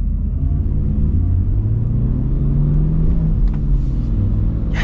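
A Shelby Super Snake Sport truck engine at light throttle gives a deep, steady rumble that stays loud and close for the whole stretch, with no talking.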